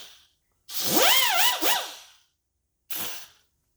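A die grinder fitted with a small 80 grit abrasive wheel briefly grinds the edges of small-block Chevy 350 connecting rods, a whining, sweeping burst followed by a shorter second touch, with no talking.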